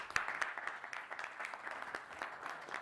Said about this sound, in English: Well, I got applause.